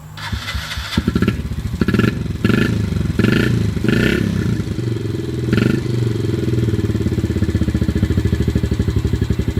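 A dirt bike engine is kicked or cranked a few times with sputtering catches, then fires and settles into a steady, loud, close-up running idle.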